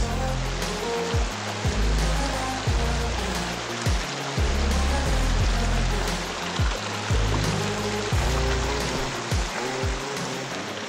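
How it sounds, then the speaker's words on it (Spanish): Water of a river rushing over rocks in the Garganta del Diablo, a narrow, shaded gorge below a waterfall, a steady loud broadband roar with surging splashes throughout. "Seguimos por el cauce de este río"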